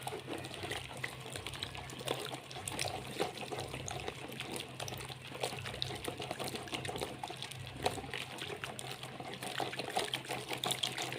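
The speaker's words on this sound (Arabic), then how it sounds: "هنبتدي ننزل شوية بشوية كده. طول ما احنا بننزل كده نقلب." Homemade dishwashing liquid is poured slowly into a mixture while being stirred at home, making a steady soft liquid trickle and gentle swishing that runs evenly throughout with no voices.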